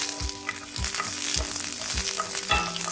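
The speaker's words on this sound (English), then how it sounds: "Now add the garlic and roast it." Garlic roasting in hot olive oil in an iron skillet: a steady, close broadband sizzle with five or six regular low thumps of stirring or scraping running through it.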